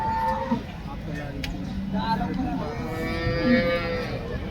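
Cows at the Loni cattle market lowing in long, drawn moos, several calls near and farther off over a low crowd murmur with faint distant voices.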